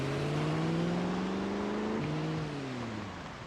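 Car engine in Project Zomboid, a close, steady humming drone with slowly shifting pitch that dips near the end and fades slightly, with no talk over it.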